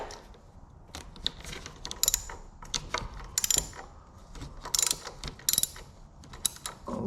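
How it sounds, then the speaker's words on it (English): A T40 hex tool loosens the handlebar screws on an Indian motorcycle with close, ratcheting metallic clicks and small creaks in uneven bursts, and no one speaking. "we're just gonna loosen up these 2 screws here, and it's gonna allow us to roll the bars back just a little bit"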